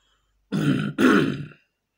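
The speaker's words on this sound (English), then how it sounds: "Just clear my throat there." Someone clears their throat in two short, close bursts, the second a little stronger, followed by silence.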